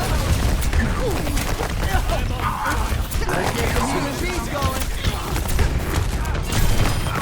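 Reaper's guns fire in Overwatch 2, rapid booming shotgun blasts thick with battle clutter that run steadily throughout, loud and chaotic, with a voice talking over the fight.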